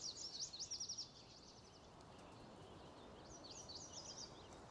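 Chirping songbird calls from the ambient soundscape of the Farming Simulator 19 game on the Sossa Farm map, bright rapid trills in a burst at the start and again near the end, faint over a soft background hiss.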